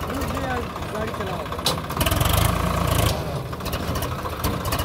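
A Swraj 742 XT tractor engine runs at a steady idle close by, with a brief louder rev in the middle, while people talk over it.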